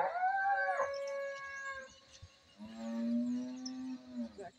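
Cows being driven in by a cowherd for milking on a Brazilian farm give drawn-out, wavering moos, one higher call and then a long, low, loud bellow, with no talk.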